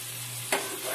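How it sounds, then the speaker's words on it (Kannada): Salted onions frying in a pan for a paneer butter peas gravy: a low hum and soft hiss, then a single sudden burst of sizzle about halfway through, with no talking. "ಇವಾಗ ಈರುಳ್ಳಿ ಹಾಕೊಂಡ್ಬಿಟ್ಟು ಚೆನ್ನಾಗಿ ಫ್ರೈ ಮಾಡ್ಕೊಳ್ತಾ ಇದ್ದೀನಿ"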